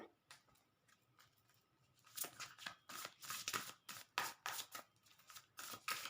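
A deck of cards is gathered and shuffled: soft handling at first, then a run of quick, crisp riffling bursts and flutters, close and moderately loud, with no talking.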